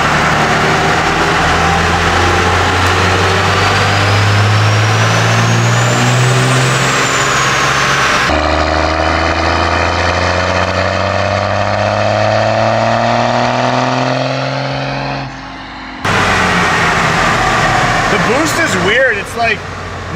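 A turbocharged car engine revs hard on a dyno, with long loud climbing pulls, a brief drop as it lets off, then another run. A turbo whistle rises above the engine, and a voice talks over it.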